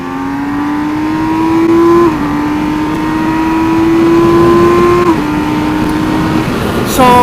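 A 2019 BMW K1600B motorcycle engine holds a high, steady whine, dipping briefly at two points before climbing again; loud and close throughout.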